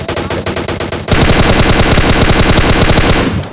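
Sustained automatic M416 rifle fire from a shooting video game: a few short bursts, then a loud, continuous rapid spray of evenly spaced shots that stops abruptly, with no talk.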